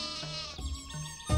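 A sheep bleats a few times close by, each call wavering and drawn out, followed by a low thump at the end, with no talking over it.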